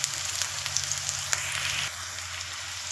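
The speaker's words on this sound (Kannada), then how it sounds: "ಎಲ್ಲವನ್ನು ಹಾಕ್ಕೊಂಡು ಚೆನ್ನಾಗಿ ಫ್ರೈ ಮಾಡ್ಕೊಳ್ಳೋಣ" Onion and slit green chillies frying in a pan for bitter gourd palya, a steady close sizzle with faint crackles and a low hum that drops partway through.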